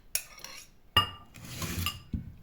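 Utensils clink against bowls as egg white is moved from one bowl to another while making pancakes: a few close, sharp metallic and glassy knocks with a short scraping stir between them.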